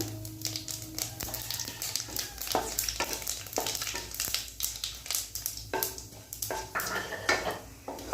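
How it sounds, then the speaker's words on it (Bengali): Whole cumin seeds, bay leaves and dried red chillies frying in a hot kadai, a busy crackling sizzle mixed with rapid spoon scrapes and metallic knocks on the pan, close and even throughout, no talking. "তেজপাতা শুকনো লঙ্কা গোটা জিরে খুব ভালো মতো ভাজা হয়ে গেছে"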